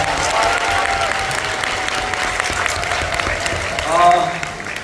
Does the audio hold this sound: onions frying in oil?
no